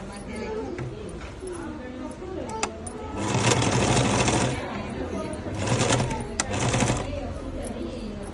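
A sewing machine stitches a school uniform in two loud running bursts, one long and one shorter, separated by quieter handling, while someone talks throughout.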